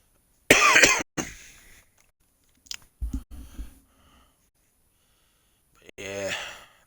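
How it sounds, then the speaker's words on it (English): A cough from someone who is ill, sounding as a harsh burst followed by a few short rough coughs and a final breathy hack, close and fairly loud with silence in between. "this cough ain't no joke, guys"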